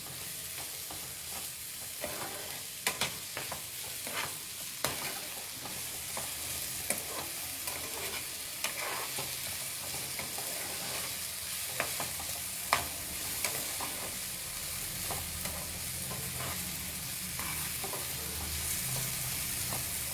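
Food shallow frying in a pan during a live cooking session, a continuous close sizzle with occasional stirring clicks and scrapes, no talking.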